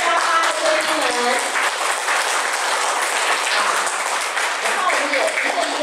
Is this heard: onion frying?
no